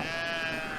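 Sheep bleat in the video game Brothers: A Tale of Two Sons, a brief steady call with a bright, buzzy tone over a dense game background.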